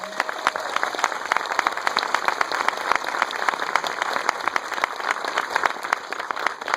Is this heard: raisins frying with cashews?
no